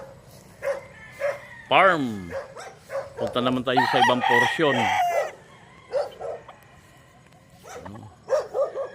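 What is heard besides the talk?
guard dogs barking at a chicken farm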